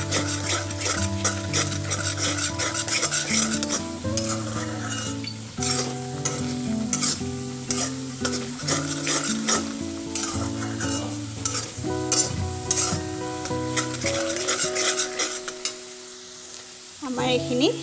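Spatula stirring a mixture in a pan over a high gas flame, a steady run of scraping strokes over a continuous sizzle and fry, close and fairly loud for the whole stretch with occasional utensil clinks against the pan.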